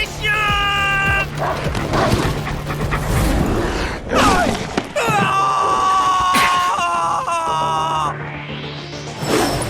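Dogs growling and yelping in Final Fantasy 7 Remake Intergrade combat, loud snarls and whines mixed with battle effects and music, with character voices talking over them.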